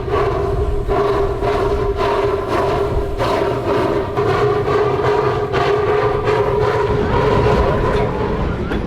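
Aboard the Mocanita train, a steady rumble of rolling wheels and carriage noise runs continuously, with a sustained tonal hum and a shift in the low rumble near the end.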